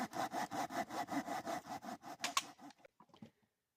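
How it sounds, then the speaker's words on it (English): A hand saw cutting a kerf into a log outdoors in the woods, with a steady rhythm of about a dozen loud, close rasping back-and-forth strokes that slow and stop near the end. "begin cutting your kerf"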